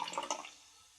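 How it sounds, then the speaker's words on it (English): Yellow Red Bull energy drink poured into a glass, a short liquid splash and trickle that tapers off within a second, close and fairly quiet. "we're going to open the yellow Red Bull, pour it in"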